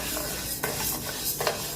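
Urad dal dry-roasting in a pan while being stirred, a dense continuous rustling hiss with a few brief scraping strokes, close and steady with no talk.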